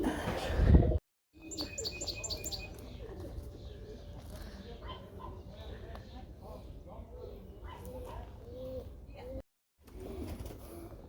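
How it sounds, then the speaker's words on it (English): Pigeons coo softly in a quiet neighborhood street, low murmuring calls layered with chirps and a nearby dog bark, heard faintly beneath moments of a person speaking. "I love these pigeons."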